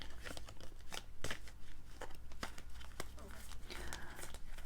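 Cards are shuffled and handled with repeated crisp riffling and slapping sounds, close up, continuing steadily throughout.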